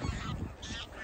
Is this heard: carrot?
no